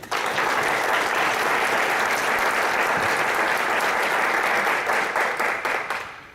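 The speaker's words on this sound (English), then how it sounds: "A big round of applause for Mr. Butler." A conference audience at a procurement transformation session breaks into loud, sustained applause filling the room, dense clapping that holds steady for several seconds before thinning out and stopping.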